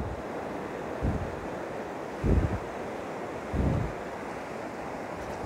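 Broad, steady roar of a hurricane-flooded river surging past, with wind buffeting the microphone and three louder low gusts or surges rising out of the constant rush.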